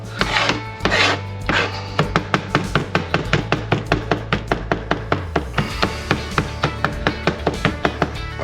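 Knife dicing garlic into very small pieces on a cutting board, a fast steady run of sharp chopping taps, close and loud, with no talking.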